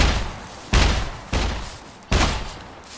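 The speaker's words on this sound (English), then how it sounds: "The mech is shooting." An enemy mech in SCUM fires heavy shots at the player: four hard, booming blasts about two-thirds of a second apart, each trailing off before the next.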